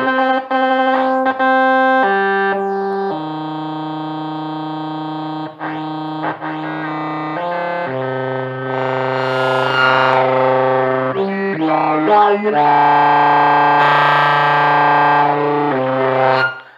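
A loud, buzzy analog synth holds notes while its filter, modulated by a second oscillator, sweeps and warbles, growling and wobbling in tone.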